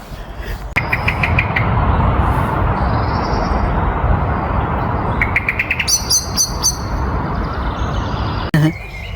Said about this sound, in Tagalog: Magandang ibon.